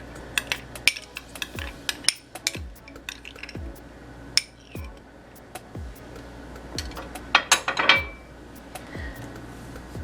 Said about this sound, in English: just going to add all of your chia seed content into your blender.